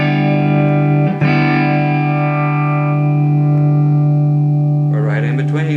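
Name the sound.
electric guitar with the pickup selector between two pickups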